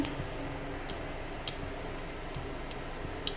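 Sparse sharp pops and crackles burst every second or so over a steady low hiss, like spices spluttering in hot oil.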